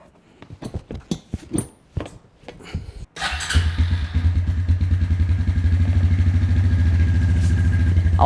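A Suzuki Ozark LTF-250 ATV engine starts after a few scattered clunks and settles into a steady, loud, close idle with an even low throb that runs unbroken to the end.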